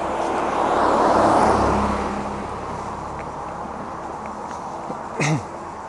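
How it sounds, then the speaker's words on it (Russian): Traffic on a busy highway near a narrow pedestrian path: a car swells and passes close by, then a steady roadway hum continues with more distant vehicles. "Тут оживленная трасса."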